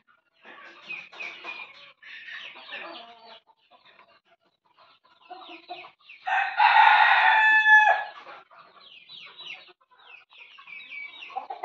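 Native village hens sitting on nests of eggs in cut-open oil tins make scattered soft clucks and calls throughout, with a loud rooster crow bursting out near the middle and fading back to low clucking.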